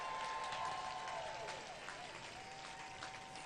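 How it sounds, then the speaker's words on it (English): At a Labor Day rally in Ohio, a crowd applauds educators, a steady wash of clapping and cheering held at an even level, with a faint tone running beneath. "raise your hand if you're an educator so we can give you all a round of applause"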